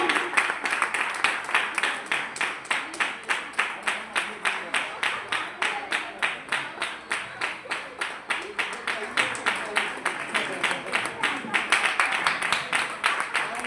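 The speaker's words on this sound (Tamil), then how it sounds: "கைத்தட்டல் பத்தலாம்." Audience clapping at a ceremony where a guest is honored with a shawl: many hands beat in steady unison, about two claps per second, sustained evenly throughout at moderate loudness.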